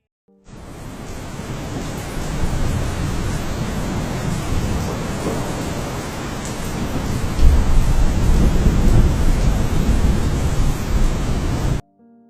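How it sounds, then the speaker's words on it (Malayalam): Heavy rain pours down in a loud, unbroken roar, with a deeper surge about halfway through; no voices are heard. "പുറത്ത് നല്ല മഴയാ."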